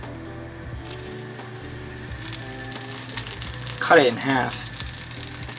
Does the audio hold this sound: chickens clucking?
no